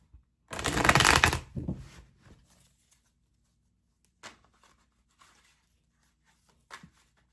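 A deck of tarot cards is shuffled up close in one quick riffling burst, followed by a few soft card taps and slides against an otherwise quiet background.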